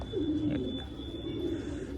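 Soft, low pigeon cooing repeats twice in gentle rolling phrases, close by, over a steady background hum.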